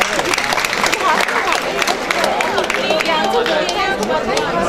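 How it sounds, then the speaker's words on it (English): Audience applause and clapping at an entrepreneurship conference, mixed with chatter and cheering voices, continuous and fairly loud throughout. "Let's clap for Anubhav"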